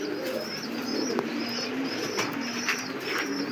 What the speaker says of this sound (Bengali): এই যে পাকিস্তানি কবুতর ডিম নিয়ে বসে আছে